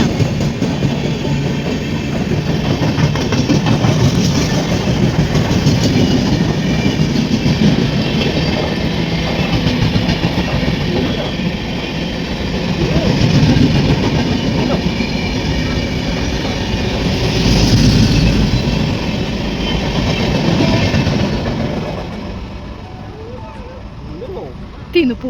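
A train rumbles through a railway station at Pappinisseri in Kannur, a long, loud, continuous roll with rhythmic clatter of the wheels on the rails that swells and fades over about twenty-five seconds, with faint voices in the background.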